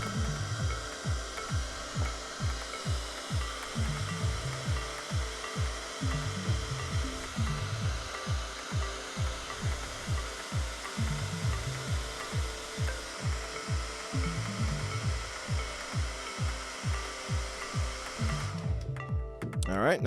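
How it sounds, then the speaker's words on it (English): Blow dryer heating a NECA action figure's hip joint. Its motor whirs continuously throughout with a rapid, regular pulsing flutter, close and moderately loud, before cutting off abruptly near the end. "So I'm gonna use a blow dryer here."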